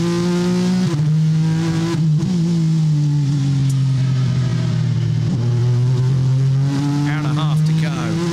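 Race cars, including a Ligier, roar through the 6 Hours of Nurburgring endurance race as a loud, sustained engine drone whose pitch dips and climbs through gear changes, under continuous commentary.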